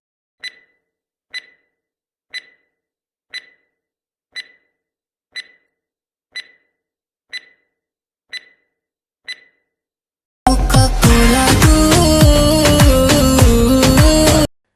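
Quiz countdown timer ticking, ten evenly spaced sharp ticks one second apart over silence, clean and close, followed abruptly by loud music.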